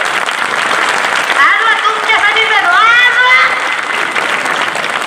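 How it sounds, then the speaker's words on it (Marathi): Loud sustained applause rises from an audience at a Marathi kirtan, a dense wash of many hands clapping together, while a voice speaks briefly over the start. "एकदा तुम्हीच तुमच्यासाठी जोरदार टाळ्या वाजवा."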